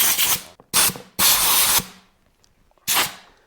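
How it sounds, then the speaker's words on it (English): Compressed air blasting dirt out of a Jeep JK electrical connector in a garage: four loud, close hissing bursts, the first few short and quick, a longer one, then a pause before a final burst. "first of all blow it out with some compressed air"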